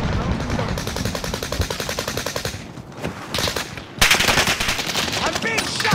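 Rapid automatic gunfire fired at the player in a Call of Duty match on Fortune's Keep, loud repeated bursts with short pauses, mixed with game sounds and some voices.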